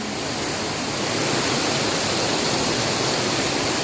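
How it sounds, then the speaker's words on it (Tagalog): Strong floodwater current rushing past a tree after heavy rain on a farm, a steady dense roar of flowing water filling the whole span without a break. "Dahil na rin sa agos. Maagos yung tubig"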